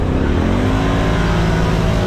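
A Can-Am Renegade ATV racing a side-by-side at full throttle, its engine a loud, close, sustained roar that holds steady and strong throughout, with no voices.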